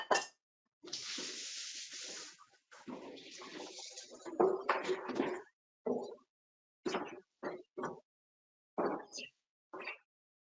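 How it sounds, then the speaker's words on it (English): Tap water runs steadily into a sink while hands are washed, a continuous hiss of flowing water in a home kitchen during fry bread preparation, fading out and followed by a few short bursts of speech. "I'm gonna go wash my hands."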